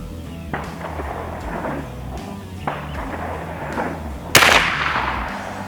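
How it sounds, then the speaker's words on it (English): A Bin Tac B&W S45 airgun fires a Flanigans precision pellet at a target from a kneeling position: one sharp, loud crack near the four-second mark, with quieter handling noise and faint ambient rumble before it and a short fading tail after. "Click off my safety. Acquire the left-hand side target. And fire."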